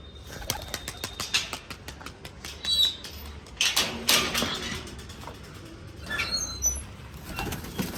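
Several bursts of pigeons flapping their wings as they are released to fly, close by, with brief flutters and clattering beats spread across the clip amid faint background noise.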